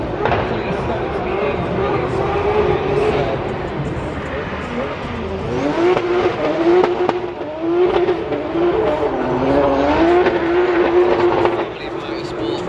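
Red Bull Formula 1 car running at the 2022 Home Run demonstration in Milton Keynes, a steady loud engine drone with rising and falling pitch as it accelerates along the street, under crowd noise and occasional nearby talk.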